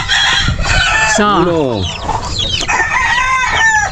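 Rooster crowing loudly at close range among clucking chickens in a farmyard where eggs are being collected, with a person speaking briefly over the birds.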